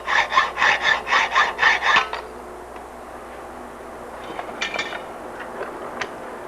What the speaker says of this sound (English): I'm not pushing very hard with the saw because I do have this lightly held in the vise